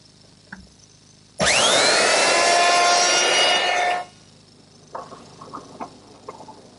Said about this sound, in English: Using the same 1/4 inch round over bit that I used earlier to ease the edges on the foot